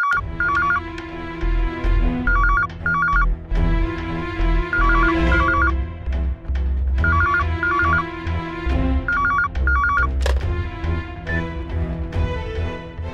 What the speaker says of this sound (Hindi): केशव, तुम लैंडलाइन पे फोन क्यों कर रहे हो?